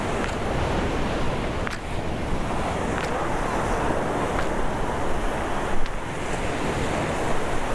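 Ocean surf rolling onto a Caribbean beach at Punta Cana, a steady loud wash of breaking waves with wind buffeting the microphone, continuous with no voices.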